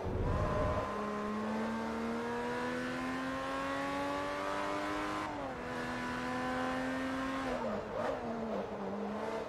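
Bugatti and Zonda race cars in Forza Motorsport 3, a sustained high engine drone rising steadily in pitch, then dropping with gear shifts and braking, with brief tire squeal near the end.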